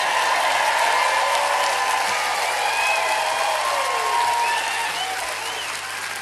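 Sustained applause from a concert audience at The Civic fills the hall, a dense steady wash of clapping that fades slightly toward the end, with no voices over it.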